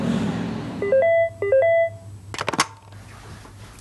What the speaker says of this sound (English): we managed a brief phone call from a London hotel with Assange in the embassy